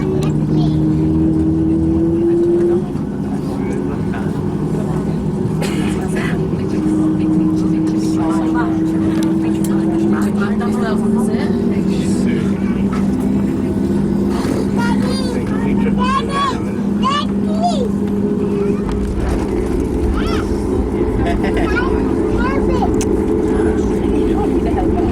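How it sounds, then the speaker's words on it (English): A passenger plane's aircraft engine revs up as it sets off from the stand on a foggy day, a steady low drone with shifting tonal whines that holds throughout. "The engine's revving up."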